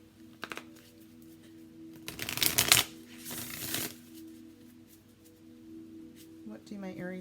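A deck of Sacred Creators oracle cards is shuffled in two quick riffling bursts, close and crisp, with a light tap before them and a soft voice toward the end.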